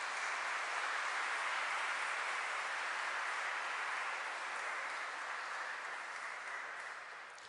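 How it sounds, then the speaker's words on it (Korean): A church audience at a priests' day event applauds to thank a priest after his lecture, a broad, continuous clatter of many clapping hands, fairly distant, that slowly tapers off. "다시 한번 큰 감사의 박수를 부탁드리겠습니다."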